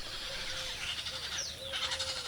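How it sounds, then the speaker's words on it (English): Painted stork chicks begging in a nesting colony on exposed treetops make continuous rough, squealing calls with a few thin rising whistles, a dense clamour of many birds heard close and fairly loud. "the chicks get extremely thirsty and constantly beg for relief"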